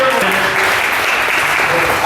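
Loud, dense applause and acclamation from an audience greeting the mayor at a service handover ceremony, continuous clapping close by with voices cheering within it.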